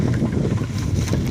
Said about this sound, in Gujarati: ટ્રેક્ટર વળે છે જો કે એટલે લીધી થોડીક બ્રેક